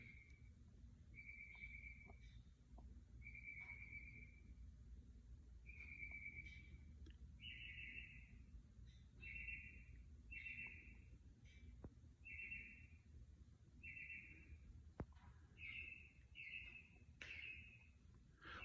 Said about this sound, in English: why would a bird be out this late?